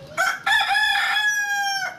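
A rooster crows in one long, loud, drawn-out call close by, with a brief higher note at the start before the sustained harmonic crow that tails off near the end.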